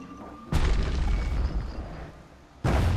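Grenade explosions in the video game Bastion, two heavy booming blasts, each with a sharp onset and a long rumbling decay that fills the short stretch between them, loud and close.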